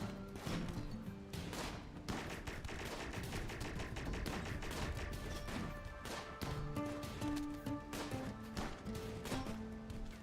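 Dense, continuous gunfire from a RimWorld colony battle, shotgun blasts mixed with other weapons, loud and sustained throughout with overlapping shots and background game music tones.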